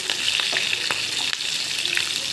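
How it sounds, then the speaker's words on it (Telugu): Curry leaves and green chillies fry in hot oil for jeera rice, giving a continuous close sizzling crackle with light stirring scrapes. "వేగిపోయింది కదా కరివేపాకు ఇవన్నీ"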